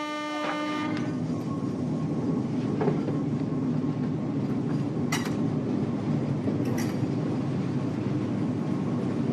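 A big, battered diesel locomotive hauls a train along rails in Madagascar, a steady loud rumble of engine and rolling wheels with a few sharp metallic squeals and clanks.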